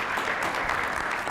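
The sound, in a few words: audience applause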